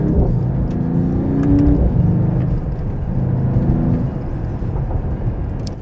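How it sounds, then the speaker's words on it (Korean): A Mercedes-AMG GT 43 4-Door drives along a road with a deep, heavy exhaust note that rises and falls with throttle and gear changes, steady and fairly close, with no talking over it. "이런 정도로만 밟았는데도 팝콘 다 튀기고요. 배기음 굉장히 묵직하고요."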